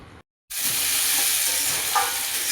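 Soybean curry cooks in a kadai pan, giving off a loud, continuous close-up sizzle and fry. It starts abruptly after a brief moment of silence and holds steady throughout.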